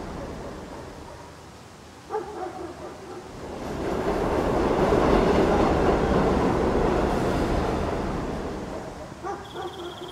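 A train running on rails and slowing to a halt at a station, a rising rumble with rhythmic clatter that swells in the middle and fades, plus some brief knocks and faint distant barking, no talk.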